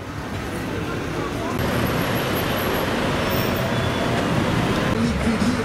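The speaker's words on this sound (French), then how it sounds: "la circulation est assez intense à Pula, surtout à l'heure du déjeuner." Heavy lunchtime city traffic in Pula, Croatia, a steady low rumble of passing cars and buses with engine drone throughout, under a voice speaking.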